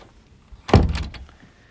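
A single close, sharp thud and rattle of a garage door to a rear garden being opened or shut, ringing briefly before fading, with no talk.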